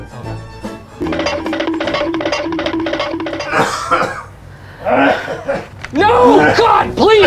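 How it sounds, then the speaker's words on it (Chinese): A person coughs repeatedly at close range, with harsh bursts and throat-clearing mixed among loud voices speaking and reacting around them. "你这样咳有差吗"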